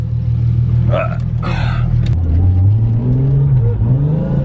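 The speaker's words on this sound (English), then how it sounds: "Gonna go for a little ride in the Supra." A Toyota Supra engine revs hard on a drive, its loud, close exhaust drone rising and falling steadily, with a brief voice heard over it early on.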